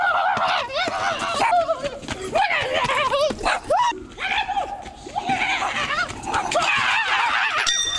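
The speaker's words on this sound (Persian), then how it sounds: "اینا سگ شورویه" Several dogs bark, yip and whimper close by in a rural outdoor setting where horses are being shod, with excited overlapping calls and people talking throughout.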